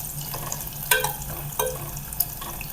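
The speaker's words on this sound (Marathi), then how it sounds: "लसूण इथे छान असा हलकासा आपल्याला परतून घ्यायचा आहे।" Crushed garlic and dried red chillies sautéing in a pan for rassam rice, a low sizzle broken by a few sharp spoon scrapes and clinks against the pan.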